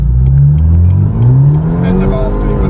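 A BMW F30 with the 2-litre N20 four-cylinder pulls hard under full throttle, its close, loud engine drone climbing steadily in pitch as it accelerates.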